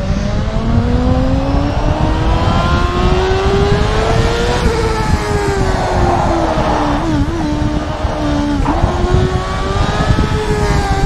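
A CART race car engine screams at high revs around Lime Rock in rFactor 2, loud and continuous, pitch climbing through a long pull then dipping briefly on lifts and shifts.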